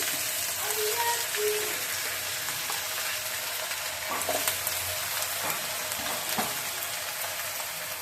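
Fresh spinach leaves hit hot oil in a home kitchen pan and fry with a steady, dense sizzle throughout, a few faint clinks and stirs rising briefly above the crackle.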